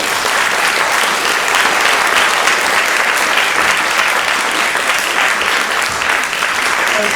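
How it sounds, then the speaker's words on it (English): A lecture hall audience at an inaugural lecture gives loud, sustained applause, a dense and even wash of clapping heard close throughout; individual foot stomps cannot be picked out. "A bit more applauding and a bit more foot stomping"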